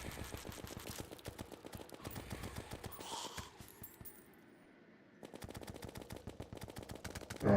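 A minigun in Terraria fires rapid, dense bursts of shots, loud and continuous, broken by a short quieter pause before the rapid fire resumes.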